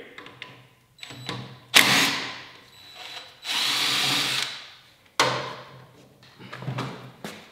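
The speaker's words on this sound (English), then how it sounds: "And then I will remove this bottom bolt, 12 millimeter bolt" Power tool, likely an impact driver, removing a 12 mm bottom bolt from the rear shock of a 1989-2001 Yamaha Zuma scooter, with several loud, near bursts of whirring separated by pauses and clanks.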